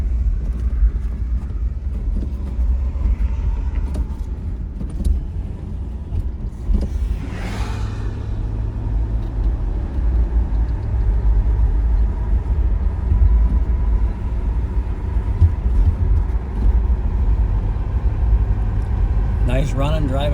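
A 1978 Chevrolet Malibu with a 305 V8 and automatic transmission on the move, a steady low engine drone and road rumble heard from inside the car, with a brief swell of noise midway.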